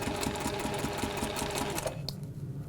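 A sewing machine runs a continuous line of stitching in contrast thread, a fast steady mechanical rattle close up that stops near the end, leaving a quieter hum, with no talking.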